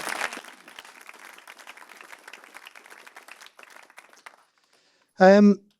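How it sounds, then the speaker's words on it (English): A modest round of applause for panel judges at a Warwick Business School event, steady, moderate clapping that tapers off, followed after a short pause by a brief burst of a voice. "if you give them a round of applause"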